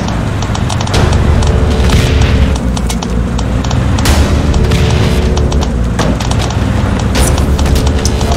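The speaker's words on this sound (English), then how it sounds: "Grenade!" Heavy, repeated booms of grenade and artillery blasts roll through a battle in the war game Foxhole, loud concussive hits stacked over a constant rumbling din of nearby explosions.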